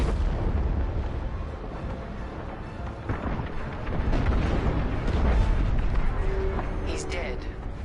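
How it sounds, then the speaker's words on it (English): A frigate blows apart in Star Wars: Squadrons, a loud sustained rumbling blast with deep booms and crackling debris building over several seconds, with voices speaking over it. "The frigate is about to explode."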